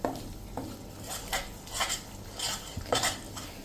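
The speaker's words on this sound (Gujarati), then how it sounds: "અને હવે આપણે એને ચલાવતા રહેશું કન્ટિન્યુ" A spoon stirs amaranth flour fudge cooking in ghee in a pan, scraping and clinking against the metal in rhythmic strokes about every half second, with a soft sizzle underneath and no talking.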